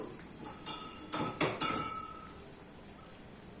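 Mustard seeds go into hot oil in a pan of fried chana dal and dried red chilies for Andhra-style cucumber dal, giving a few close crackles and clinks against the pan over a steady sizzle.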